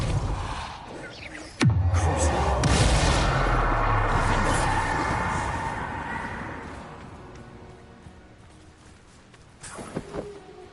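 A spell blast cast in combat in the Hogwarts Legacy video game: a sharp loud impact near the two-second mark bursts into a long rumbling, crackling wash that slowly fades, with a smaller thump near the end.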